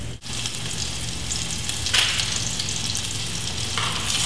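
Food pan-frying in oil for a salad, giving a steady loud sizzle and crackle throughout, with a brief dip near the start and a couple of brighter spitting surges.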